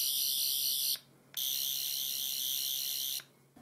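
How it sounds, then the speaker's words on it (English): A Doctor Who sonic screwdriver toy gives two bursts of its electronic sound effect, a shrill high-pitched warbling tone with a short gap between them, close and alone. "the first two regular sound effects are from the 11th Sonic"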